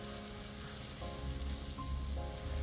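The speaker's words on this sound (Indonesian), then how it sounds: "ini bumbu halusnya bakalan kita oseng atau tumis sampai benar-benar wangi" Ground spice paste for a woku gurame dish sizzles and crackles steadily in a hot pan as it is stir-fried, a dense, continuous frying hiss with no talking.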